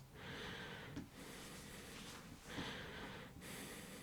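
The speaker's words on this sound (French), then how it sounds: "On entend ma respiration." Close, airy breaths into a microphone, slow inhales and exhales alternating in a soft, rhythmic pattern with no talking.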